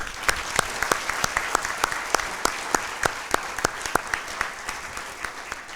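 A room full of people applauds EMS responders at a Chain of Survival event, even crowd clapping with individual close claps cracking through, continuing without a break.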